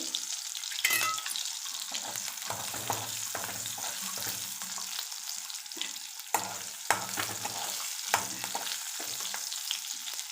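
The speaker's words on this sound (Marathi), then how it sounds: "तेलामध्ये घातलेल्या आहेत मिरच्या छान चटचडल्या आहेत" Green chillies crackling and spitting in hot oil in a pan, a busy close sizzle broken by sharp pops and scraping stirs throughout, with no voices.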